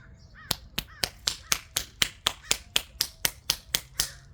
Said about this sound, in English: I applaud myself